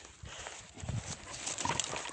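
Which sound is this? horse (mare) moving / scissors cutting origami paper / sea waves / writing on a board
horse (mare) moving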